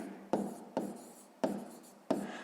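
A pen writing on paper during a sixth-grade maths exercise, four short scratchy strokes spaced apart, each starting sharply and trailing off, close and quiet with no talk.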